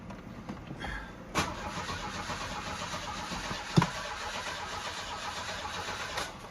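A car engine cranks but fails to catch on a mobile mechanic's job. Faint, continuous starter churning runs throughout, with a few sharp clicks and knocks and no engine firing into an idle.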